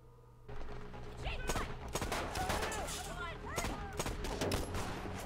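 Gunshots in a Stranger Things episode, a dense, continuous fusillade of sharp shots across the whole stretch, fairly loud in the foreground and mixed with the show's background sound.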